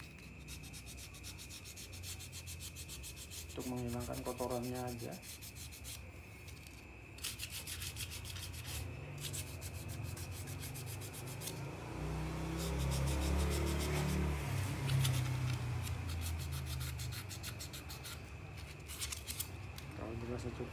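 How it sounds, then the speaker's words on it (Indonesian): Sandpaper rubs back and forth over a rear part of a Toyota Soluna compressor during repair work, a steady scratchy rasping that continues throughout while someone talks over it. "Kita amplas juga dikit-dikit"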